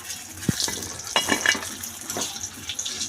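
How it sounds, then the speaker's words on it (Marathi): Sponge gourd fritters deep frying in oil make a continuous bubbling sizzle, close and moderately loud, broken by a few sharp clinks and scrapes of a utensil against the pan. "असेच आपण सगळे आता डीप फ्राय करून घेऊया"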